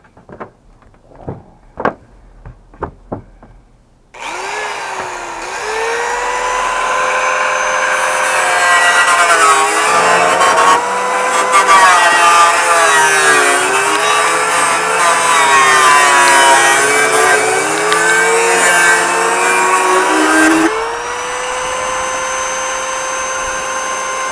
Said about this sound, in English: We're using the side grinder.